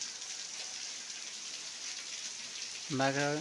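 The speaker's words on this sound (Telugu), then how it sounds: "మేబీ కొంచెం సేపట్లో తగ్గచ్చు వర్షం." Steady rain falls under an overcast sky, a soft even hiss of drops filling the scene throughout, with a voice briefly speaking near the end.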